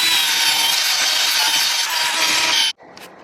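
A Yamaha FZ6R headlight lens is sanded by hand with 800 grit sandpaper, a loud, continuous rasping scrub that stops abruptly, followed by a faint brief rub.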